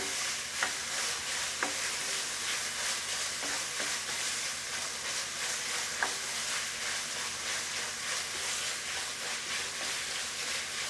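Bell peppers in three colours stir-frying in a pan for Indo-Chinese veg Hakka noodles, a steady broadband sizzle with occasional sharp scrape and clink transients from stirring, close and continuous with no talk.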